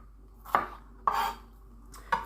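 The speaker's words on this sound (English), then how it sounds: "make some incisions down the top of the onion to the end" A kitchen knife makes vertical incisions down the top of an onion on a cutting board. Three crisp, close cuts knock against the board at uneven intervals, with near silence between them and no talking.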